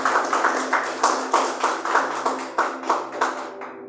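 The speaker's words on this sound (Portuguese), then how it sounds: "Palmas para Jesus." A church congregation claps in rhythm, a steady series of sharp, evenly spaced hand claps, about three per second, close and fairly loud, with a faint sustained tone beneath, before the claps fade out.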